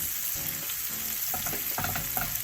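Onions cooking down in butter in a pan for a cheese and onion tart starter, a steady close sizzle with a few scrapes from stirring, no talking.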